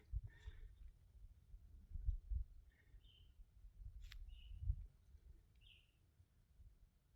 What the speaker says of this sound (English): There's one bird.